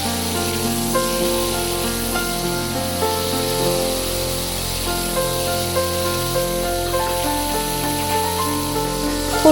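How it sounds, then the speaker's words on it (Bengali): Cauliflower fries in a pan with a continuous hissing sizzle, set against a steady tonal hum. "ফুলকপিটা মোটামুটি ভাজা হয়ে গেছে"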